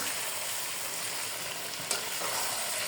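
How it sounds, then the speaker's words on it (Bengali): Broiler chicken pieces fry and are stirred in a pan with a steady, fairly soft sizzling hiss, with one small clatter partway through and no talking. "হালকা একটু আমি ভাজা ভাজা করে রান্না করবো যেহেতু এটা ব্রয়লার মুরগি"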